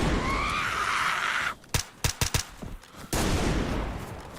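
Gunfire in the video game DayZ: a string of sharp, close shots in quick succession cuts through a steady loud background noise, then the noise resumes.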